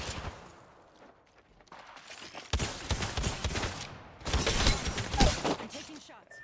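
Gunfire in the battle-royale shooter Apex Legends: after a quiet lull, two heavy clusters of rapid automatic shots crackle loudly, one after the other, mixed with dense in-game combat noise.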